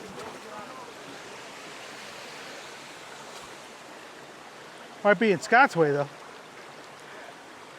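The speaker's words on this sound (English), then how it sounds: "Here we are at the waterfalls" Steady broadband rush of a waterfall fills the scene from start to finish, with a person speaking briefly over the constant roar.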